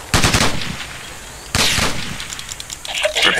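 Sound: gunfire in the video game Ghost Recon

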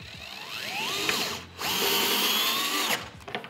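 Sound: power drill tightening bolts on a cargo rack

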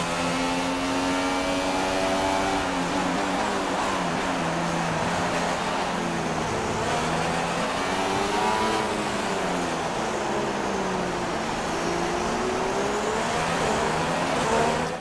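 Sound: McLaren F1 car engine, onboard, in F1 2016 video game

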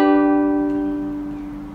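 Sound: ukulele chord strummed

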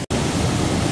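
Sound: waterfall in Yumyeong valley, Gapyeong

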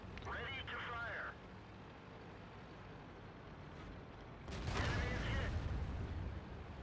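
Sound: artillery shells exploding in World of Tanks video game

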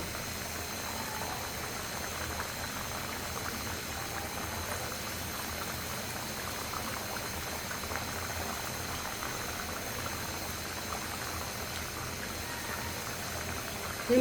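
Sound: curry simmering after fried Colombo fish are added

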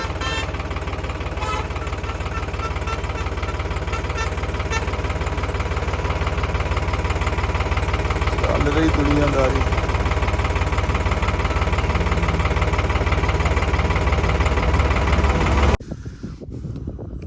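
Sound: tractor engine idling

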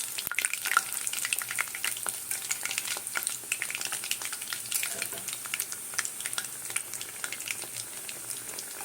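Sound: frying cauliflower singaras in hot oil

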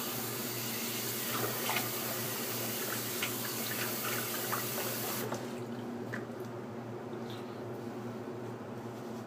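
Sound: water running while wetting the face for shaving

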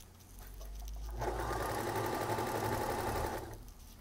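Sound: Baby Lock sewing machine running

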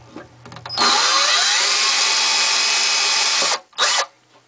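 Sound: electric drill boring a pilot hole in wood

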